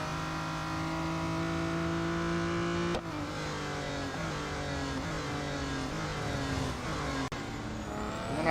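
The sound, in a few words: race car engine in video game Real Racing 3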